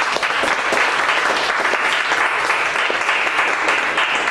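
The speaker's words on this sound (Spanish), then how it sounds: "Denle ese fuerte aplauso," A church congregation gives God a loud, sustained round of applause, many hands clapping densely and evenly throughout without pause.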